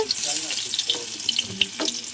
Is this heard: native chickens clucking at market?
no